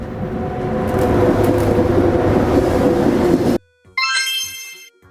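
A sleeper train rumbles along with loud, steady wheel and engine noise, cutting off abruptly and followed by a bright, melodic horn-like tone sequence.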